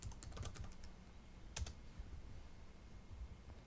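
Typing on a computer keyboard to enter a username and password, quick soft key clicks in bursts with a couple of sharper taps, close and fairly quiet, no talking.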